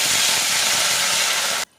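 A loud, steady sizzling hiss as water hits a hot pan after frying ginger-garlic paste, lasting under two seconds before cutting off abruptly into quiet.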